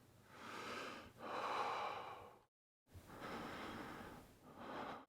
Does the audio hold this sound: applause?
no